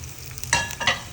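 Prawns going into hot oil in a pan and being stirred for prawn pickle, giving a close sizzle with two quick scraping stirs that flare briefly over the steady frying hiss.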